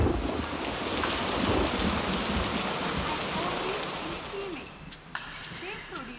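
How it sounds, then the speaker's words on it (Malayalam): Heavy rain pours outside in a continuous dense hiss, with thunder rumbling low underneath, then easing toward the end as a few sharper sounds break through. "പുറത്ത് നല്ല മഴ."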